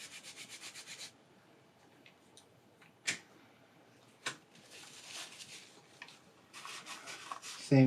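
Close, soft rubbing strokes come from a cloth wiping grime off a Black Sabbath cassette tape, first in a quick regular series, then scattered and uneven, broken by a few sharp clicks of the plastic shell.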